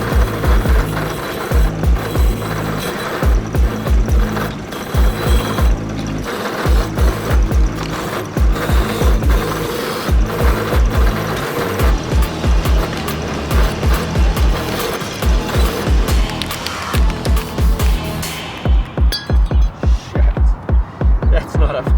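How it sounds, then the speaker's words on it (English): Steel wire brush scrubbing a worn FMF exhaust tip for a Honda CRF110, loud continuous rhythmic scraping and rattling strokes throughout, slowing into separate bursts near the end. "Let's give it a run on the steel wire brush"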